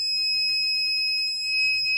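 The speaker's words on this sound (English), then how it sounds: "the red LED will light and that active buzzer turns on" An active buzzer on an ultrasonic distance sensor circuit sounds a continuous, piercing high electronic tone, steady and loud from start to finish with no talking.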